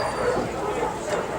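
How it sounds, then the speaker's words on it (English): A Nova Scotia duck tolling retriever yips and barks at an outdoor country game fair, the short calls partly buried under dense crowd noise and nearby talk. "another Nova Scotia duck tolling dog"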